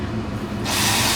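Water boiling in a soup pot breaks into a steady, loud steamy hiss partway through, following a quieter low rumble.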